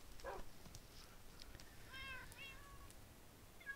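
Minecraft cats let out a few short, faint meows, scattered over a quiet background.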